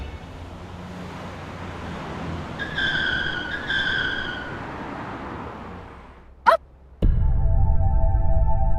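A car skids to a halt after a tyre puncture, a rising tonal squeal over a steady road rumble, followed by a sharp screech and an abrupt jump into louder, denser noise.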